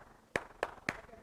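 Three sharp, evenly spaced claps from an audience in a lecture on teaching, loud and distinct against a quiet room.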